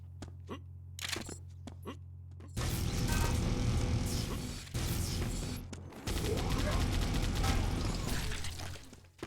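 Shotgun blasts ring out in a fast arena shooter match, buried in a loud, dense wash of weapon fire, clanks and explosions that surges in long bursts with brief drops between them.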